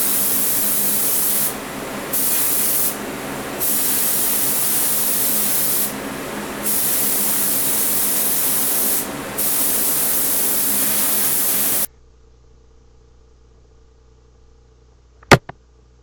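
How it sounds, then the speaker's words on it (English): Close spray paint from an aerosol can laying a light tack coat of black onto a plastic base of a Hot Wheels Firebird drag car, in four steady hissing bursts of about a second each with short gaps, then silence and a sharp knock. "Spraying on a light tack coat"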